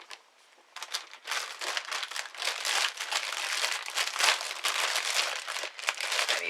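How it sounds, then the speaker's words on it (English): Continuous crinkling and rustling of plastic yarn packaging being handled up close, uneven and crackly for several seconds. "You know, that plastic makes some noise."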